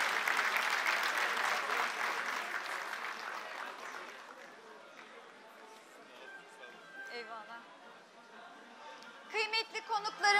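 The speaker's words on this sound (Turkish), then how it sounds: "Alkışlarınızla Sayın Cumhurbaşkanımızı uğurluyoruz." Broad applause from an audience at a youth summit in Turkey, seeing off President Erdoğan, fills the first seconds, then gradually thins out as crowd chatter and a voice over speakers take over.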